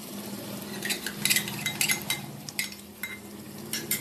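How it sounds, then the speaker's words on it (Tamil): Curd and masala being stirred in a pot for kuzhambu, a close run of irregular metallic clinks and scrapes from the spoon against the vessel, with no talking. "அதை நல்லா கிண்டணும்."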